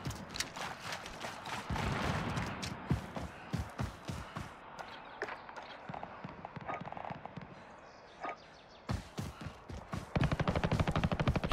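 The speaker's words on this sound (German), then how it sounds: "Hier kommen aber Schüsse ran." Automatic weapon fire crackles in rapid bursts during a Call of Duty Warzone multiplayer match, with sharp repeated shots rising and falling in dense clusters, some close and loud, others more distant, amid game ambience.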